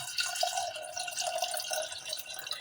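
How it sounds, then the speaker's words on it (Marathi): Water pours in a steady, soft splashing stream onto washed chana dal in a pot, cooked as the filling for puran poli. No one speaks over it. "पाणी टाकत आहे."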